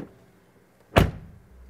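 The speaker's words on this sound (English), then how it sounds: "Well, then the door closing sound" A Mercedes EQE SUV door swings shut with a single solid thunk near the one-second mark, fairly close and loud, followed by a brief low rumble fading into quiet.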